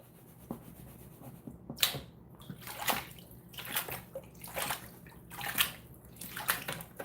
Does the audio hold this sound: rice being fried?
no